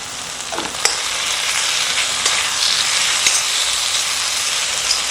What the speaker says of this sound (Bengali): মশলাটা ভালো করে কষতে হবে যতক্ষণ না এই মশলা থেকে তেল বেরিয়ে আসে